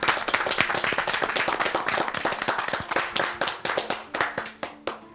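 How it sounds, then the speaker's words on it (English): A round of applause from a group at a concrete-work competition: loud, close clapping that starts dense and thins into scattered individual claps toward the end. "Give yourself a round of applause."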